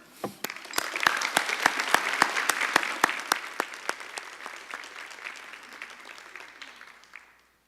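An audience at a talk on cancer and genetics claps steadily for several seconds, the applause thinning into scattered claps before stopping.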